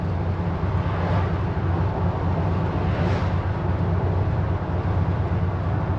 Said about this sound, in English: Exhaust sounds good, brakes feel good.